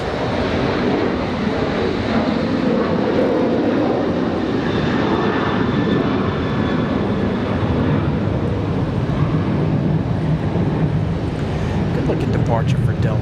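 Delta airliner departing Raleigh-Durham International, a loud, steady jet engine roar holding throughout with broadband rumble and a faint high whine, with a voice talking over it.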